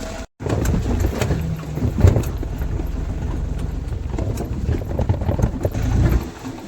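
A loaded tempo truck packed with goods drives along with a steady, close engine rumble, rattling, and occasional knocks throughout; no one speaks.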